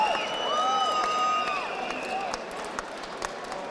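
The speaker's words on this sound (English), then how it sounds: "a big round of applause for both these men after 3 excellent rounds" Crowd applause and cheering after a three-round amateur boxing bout, a steady wash of clapping that thins toward the end with scattered louder claps, heard at moderate distance.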